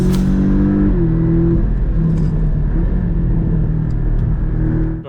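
A modified sports car engine pulls hard on a shakedown drive, a loud, steady droning rumble that shifts pitch as it accelerates and changes gear, close and continuous throughout with no talking.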